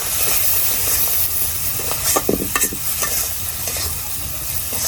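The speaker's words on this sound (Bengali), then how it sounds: "এখন এটা চিংড়ি মাছটা ভাজা হোক" Shrimp frying in a pan with turmeric, salt and chili powder, a loud continuous sizzle with stirring scrapes and a few sharp utensil knocks, no talk.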